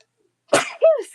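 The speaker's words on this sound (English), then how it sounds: "Oh, I'm sneezing as you guys come in." A single sharp sneeze bursts out, a quick intake followed by an explosive release, alone against silence.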